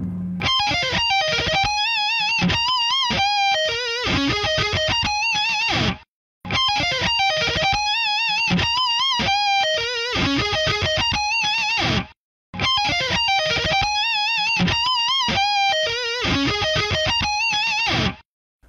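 An electric guitar solo plays fast at full speed, with dense picked runs and bends. It comes in three loud passages, each separated by a short silence.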